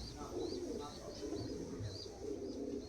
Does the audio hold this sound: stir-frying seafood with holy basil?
no